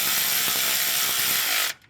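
Bolt on an LS engine turned by hand with a ratchet to compress the valve springs during a cam swap, a rapid run of loud, close pawl clicks that stops abruptly.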